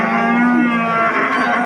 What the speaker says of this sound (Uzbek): Mana sigirni ko'ringlar. Yirik sigir ekan-a, gap yo'q.